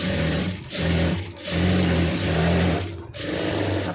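Sewing machine stitching lining fabric for piping or V-band trim, running in three close, steady bursts of whirring stitches separated by brief pauses, with no talking.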